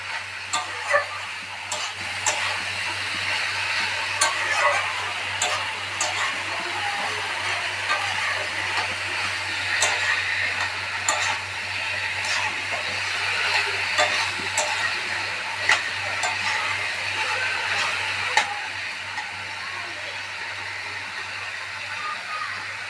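Banana flower curry (mochar ghonto) sizzles steadily in a frying pan, with a constant hiss broken by frequent light clicks and scrapes of stirring, close and fairly loud throughout.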